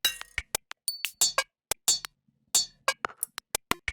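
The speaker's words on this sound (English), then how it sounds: "it's just generating a bunch of percussion for me." Random percussion hits generated by an Ableton arpeggiator at 16th-note rate from one held MIDI note, a quick irregular run of sharp clicky, clinking metallic strikes with short gaps, alone with no talking.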